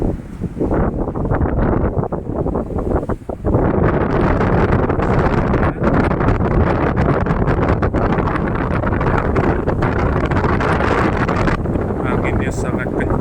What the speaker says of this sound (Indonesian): Anginnya sangat kencang, sangat kencang ini.